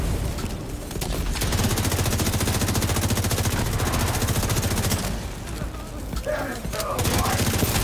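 Heavy machine gun fire in The Division 2 video game, rapid sustained bursts hammering loudly almost without pause, with brief dips and what sounds like faint game voices in the mix.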